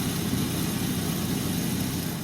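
An Amana PTAC unit with a heating fault and a grinding blower runs with a loud, steady, broadband mechanical roar and hum that never lets up, heard close with no voices.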